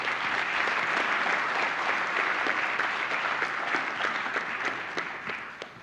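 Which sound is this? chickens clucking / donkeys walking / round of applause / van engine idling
round of applause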